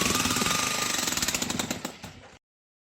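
Jackhammer pounding rock in an audio drama, a rapid loud rattle of hammering blows that slows and falters near the end before cutting off abruptly.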